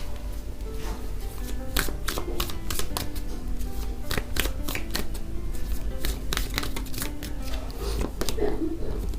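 Tarot cards being shuffled in rapid, crisp riffling bursts that repeat throughout, fairly close and steady, with faint background tones underneath.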